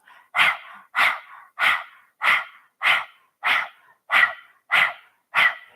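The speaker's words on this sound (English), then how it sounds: "Stick out your tongue like a little puppy and begin panting through the mouth." Rapid rhythmic mouth panting with the tongue out, kundalini yoga breath of fire: nine evenly spaced, forceful breathy pulses about two thirds of a second apart, close and clear, with no talking.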